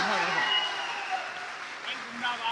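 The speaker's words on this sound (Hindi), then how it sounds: "जोरदार तालियां।" An audience claps at a Hindi poetry recital, a brief burst of applause with a voice sounding under it and fading slightly as it goes on.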